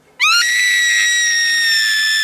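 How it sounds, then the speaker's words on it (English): A girl lets out a single long, piercing, blood-curdling scream that rises sharply and then holds at high pitch, loud and close, with no talk around it. "the girl gave out a blood-curdling scream"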